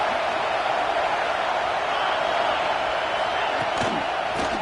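Stadium crowd roar during a college football playoff video game, Clemson versus Penn State, a steady dense wall of loud crowd noise throughout with a couple of brief louder accents near the end.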